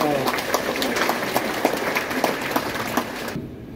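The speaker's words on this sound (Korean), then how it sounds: "이런 점에서 노력하신 분들에 대해서 큰 박수 한번 해주시기 바랍니다" An audience applauds at a commemorative ceremony for General Paik Sun-yup, with dense, fairly rhythmic clapping that holds steady for a few seconds and then cuts off abruptly.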